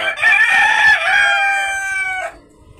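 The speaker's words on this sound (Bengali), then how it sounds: "এটা হচ্ছে পাহাড়ি মুরগিগুলো" A single loud, close crow rises and breaks off after about two seconds from a hill chicken rooster on a poultry farm, with no talking.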